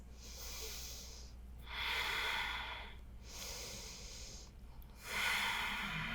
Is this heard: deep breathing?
yes